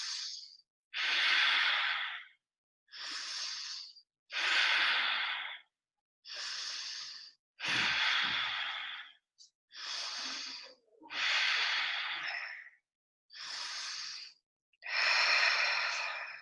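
Slow, deep breaths during a guided calming exercise, about ten long inhales and exhales in a steady rhythm, close and clear with quiet pauses between them and no talking.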